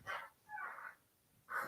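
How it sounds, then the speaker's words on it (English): A dog under a table makes three short, soft yips or whines, spaced apart and faint but close, with near silence between them. "Is there a dog under my table?"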